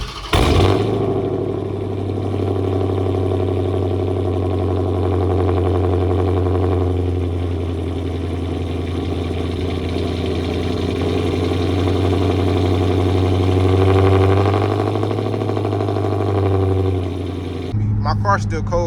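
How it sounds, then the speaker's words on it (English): A catless 5.7 Hemi Dodge Charger turns over on a cold start and settles into a loud, steady, deep idle with a low drone, close by, and the engine cuts off near the end. "a good cold start is gonna be crazy"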